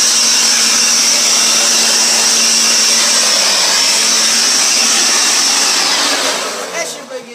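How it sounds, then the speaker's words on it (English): A leaf blower blasts dirt out of the engine bay of a Chevrolet HHR during a spark plug change: one loud, steady, close-up roar of rushing air that holds for several seconds, then tapers off and sputters at the end. "you're gonna need to get your leaf blower or some sort and just clean her out"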